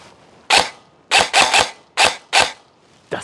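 An E&C SMR28 airsoft rifle firing BBs close to the microphone, giving about seven sharp, snappy reports in an irregular rhythm, with some shots in quick pairs and others spaced apart.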